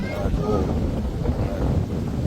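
Strong wind gusting across an open farm orchard where fruit is being knocked from the trees, a steady loud broadband rush buffeting the microphone throughout, with a brief spoken word.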